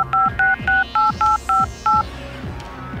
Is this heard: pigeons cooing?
no